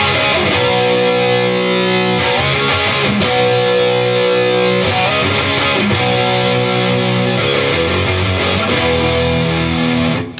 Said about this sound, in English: We're just using some octaves instead of power chords.